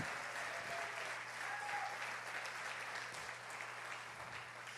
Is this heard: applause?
yes